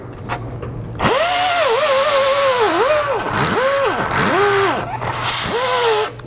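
A power tool with a wire brush cleans rust from the radiator pins of a 2007–2011 Honda Civic, whining loudly and steadily. Its pitch dips and rises several times as the load changes, with no talk over it.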